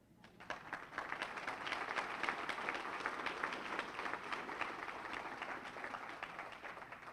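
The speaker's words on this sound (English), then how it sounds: "That's a good place to applaud." Audience applause at a NAACP keynote address, starting after a brief pause and building into sustained clapping from a large room, steady and moderately loud for several seconds.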